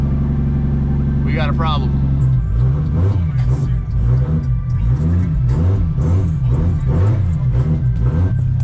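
A Toyota 2JZ engine in the Zupra cold-starts on E85 fuel with no idle air control valve: a loud, close, lumpy idle with uneven pulsing rumble after a brief rising crank. Someone talks over it.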